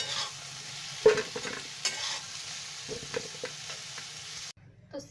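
Pumpkin fries in oil in a kadhai while being stirred, with scraping spoon strokes over a soft sizzle before it suddenly drops to near quiet at the end.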